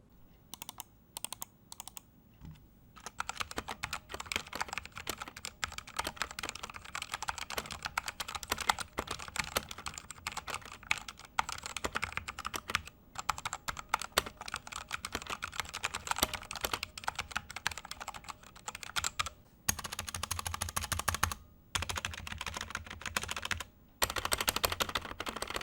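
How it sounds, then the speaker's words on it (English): Rapid, continuous clacking of keys on an Ajazz K685T mechanical keyboard, close up, with brief pauses between runs of typing. "now let's go for the typing sound test"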